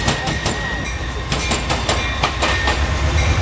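A CSX freight train rolls past on the rails with a loud, steady rumble and rhythmic clickety-clack of wheels over rail joints, close by and continuous.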